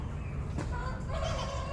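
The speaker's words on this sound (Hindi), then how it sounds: "इसमें मुर्गे भी हैं, मुर्गियाँ भी हैं।" Chickens and roosters squawk and call over a low, steady rumble, with a sharp cry partway through and overlapping warbling calls.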